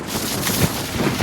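Strong wind blows outdoors by the water during a fishing trip, a loud, rough buffeting rush against the microphone with gusty surges across a brief stretch, with no talking.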